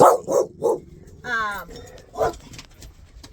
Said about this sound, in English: My dog started going nuts.